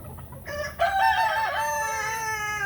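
A farm rooster crows a single long cock-a-doodle-doo, rising and then holding a drawn-out, harmonic call, loud and close against a quiet background.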